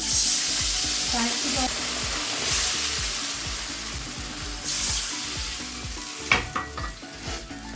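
Water poured into a hot pan of fried eggplant raises a strong sizzling hiss with repeated stirring scrapes, easing slightly toward the end with a few clinks.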